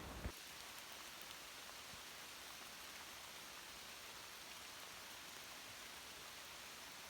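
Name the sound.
heavy rain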